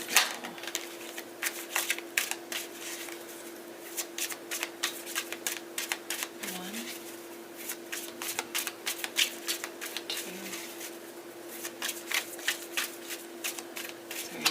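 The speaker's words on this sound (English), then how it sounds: "Did a pre-shuffle too" Tarot cards are shuffled over and over, a rapid crisp riffling in repeated bursts with brief pauses, close and fairly quiet, with no talking.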